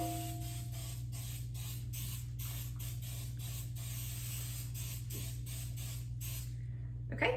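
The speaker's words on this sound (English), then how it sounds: "This is coconut oil spray." Coconut oil cooking spray fires from a can in a rapid run of short, close spritzes, repeated steadily over a constant low electrical hum.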